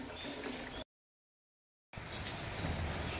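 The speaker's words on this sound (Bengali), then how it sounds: "বৃষ্টি হচ্ছে" Steady rain falls on an outdoor morning, a soft, even patter with a brief gap of silence in the middle.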